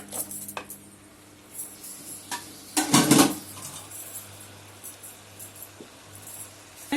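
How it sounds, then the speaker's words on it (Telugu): A spoon clatters against a metal cooking pot as coconut, green chili, garlic and ginger are mixed into a horse gram rasam, with scattered scrapes and clinks and one louder stretch of stirring in the middle. "ఇవి వేసి బాగా కలబెట్టాలండి"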